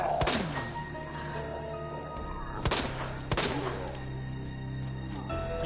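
Gunfire in the video game Resident Evil 2, several loud, sharp shots with echoing tails spread across a few seconds over a humming game soundtrack.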